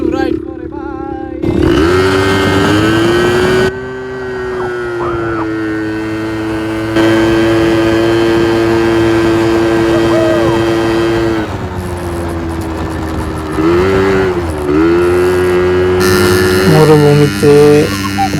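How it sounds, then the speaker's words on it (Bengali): A quad bike rides across desert dunes, its engine droning loud and close with a strong buzzing tone that rises and falls as the throttle changes, revving higher near the end. "মরুভূমিতে বাইক চালাইতেছি,"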